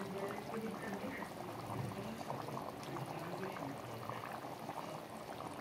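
Chicken curry broth bubbles at a steady boil in a pan, making a continuous, dense, moderately loud simmering and gurgling texture with no pauses.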